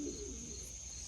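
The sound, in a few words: distressed pigeons cooing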